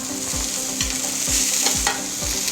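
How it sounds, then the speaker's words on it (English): Chopped celery, onions and cabbage fry in a pan with a steady loud sizzle, while a spatula scrapes and knocks the pan in a regular rhythm about every half second. "So I've cut up some celery, onions, cabbage, And we're gonna put that in the pan, fry that up"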